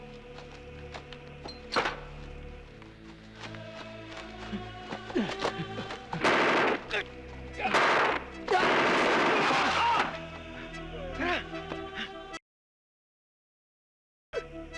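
Scattered gunshots and bursts of fire amid clattering and crashing impacts, with louder noisy stretches midway before a sudden silence.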